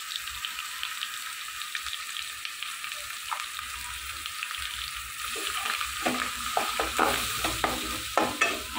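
Ground spices including chili powder and cumin frying in a pan, first a quiet steady sizzle, then louder scraping and stirring with rhythmic knocks building toward the end, close and without talk.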